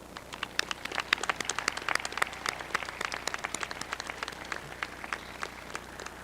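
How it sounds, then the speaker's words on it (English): Audience at a high school graduation claps steadily throughout, a dense patter of many hands with sharp individual claps standing out, moderately loud and without speech. "Please help us honor these dedicated employees for their many years of service to our school with a round of applause."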